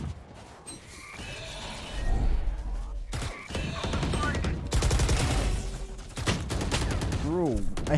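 Sheriff pistol shots ring out in the Valorant shooter game, several sharp cracks scattered through a busy game mix while a player talks over the action.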